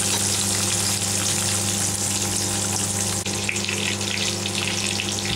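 Shallots sizzle and fry steadily in hot oil in a pan for Tamil dal rice, a dense, continuous crackling hiss close up with no talk.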